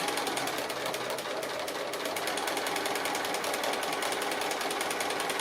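A sewing machine stitching free-motion straight-stitch applique with dark grey thread, running as a steady, loud, fast mechanical whir and chatter without a break for several seconds, with no speech.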